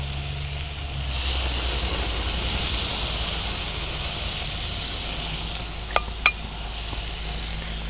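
Butter sizzles on a flat iron steak on a Fuego Element grill: a steady, close, hissing sizzle that runs throughout, with two sharp clicks near the end.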